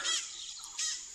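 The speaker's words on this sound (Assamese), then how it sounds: "আৰু চাওক ওপৰত ভাটৌৰ মাত" Parrot calls ring out overhead among bamboo-covered hills in Kaziranga, two sharp, bright squawks, one at the start and another near the end, loud and close with no talk.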